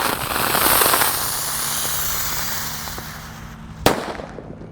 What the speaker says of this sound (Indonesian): Lanjut di sini ada mercon teratai Thor. Kita nyalakan.